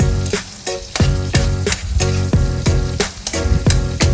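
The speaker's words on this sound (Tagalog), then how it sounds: "Pag medyo naluto na yung sibuyas, isunod po natin yung bawang. Ayan. Gisa-gisa, ganyan." Onion and garlic sauté in a pan for a mung bean stew, giving a loud, close sizzle punctuated by regular scraping strokes of a spatula about twice a second.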